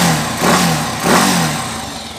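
A Kawasaki Avenger 220cc motorcycle engine starts and runs close by, loud, giving two quick throttle revs over a steady idle.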